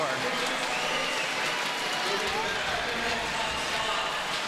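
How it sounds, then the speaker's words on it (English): A crowd roars and cheers at a street-league skateboarding championship contest, a steady loud wall of noise with commentators talking over it throughout. "crowd is fired up for Rayssa"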